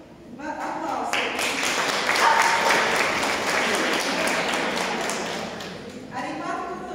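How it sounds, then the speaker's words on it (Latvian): An audience at a theatre performance in a society hall in Riga claps in sustained applause for about six seconds, dense and even, swelling and then fading out. "Lūk, aplausiet."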